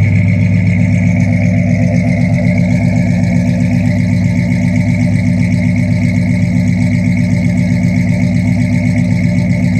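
A 1981 Chevy C10 Custom Deluxe pickup truck engine idles steadily up close, its low, throbbing exhaust note rumbling evenly from the rear without any revving or talk.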